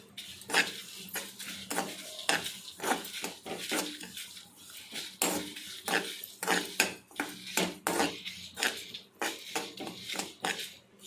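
Red chillies and coriander seeds roasting and crackling in a pan for a ridge gourd spice powder, with repeated close scraping and stirring clatters over a low sizzle, no talking.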